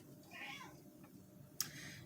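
A pet cat gives a faint, drawn-out meow and then a short sharp chirp, heard close but quiet over soft room noise.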